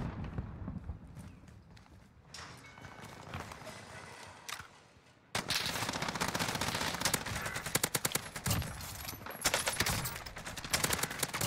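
Rapid automatic gunfire in the battle royale game Warzone on Rebirth Island, quieter bursts at first, then a loud sustained rattle of shots and clatter dominating the second half.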